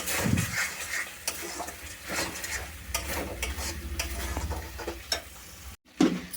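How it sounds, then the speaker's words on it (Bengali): Spice paste stir-fried in oil in a pan, with a constant low sizzle and frequent scraping, tapping strokes of a spatula, fairly close, with a brief gap near the end followed by a louder knock. "কষিয়ে নিচ্ছে মশলাটা দিয়ে একটু তেল বেরোলে"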